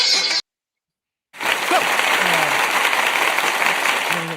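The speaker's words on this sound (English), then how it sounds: "So, round of applause." Applause from a crowd follows a brief burst of sound and a moment of silence, then holds as a dense, steady wash of clapping for several seconds with faint voices mixed in.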